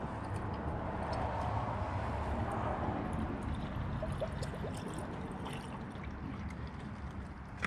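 Distilled water pours steadily into a vehicle reservoir with a soft trickle, continuous and fairly close, over a low background rumble.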